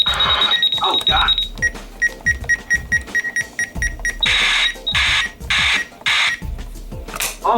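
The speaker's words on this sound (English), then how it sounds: "here's the invalid button beeps" Repeated electronic beeps from invalid button presses on a RadioShack 12-249 radio: a long tone, then a run of rapid pulses and a few more bursts mixed with key clicks, close and fairly loud.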